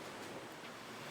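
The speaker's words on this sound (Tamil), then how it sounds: "நல்லா கொதிக்குது." A pot of pasta water at a rolling boil, a steady close-up rush of bubbling and hissing that never lets up.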